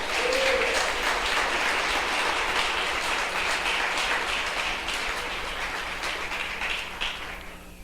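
A church congregation applauds throughout, dense sustained clapping from many hands that fills the space evenly and fades slightly at the end.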